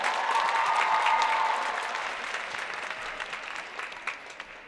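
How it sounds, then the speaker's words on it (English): An audience applauds a performer named Sahitya at a dance and music showcase, loud clapping at first that gradually thins and fades toward the end, with a few scattered claps at the close. "let's have one more round of applause for Sahitya"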